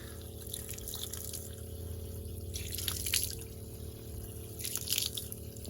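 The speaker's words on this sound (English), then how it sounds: "we've still got water coming out because we're running the pump" Water runs steadily from an RV fresh water pump over a constant mechanical hum, with brief louder splashing surges, close and moderately quiet.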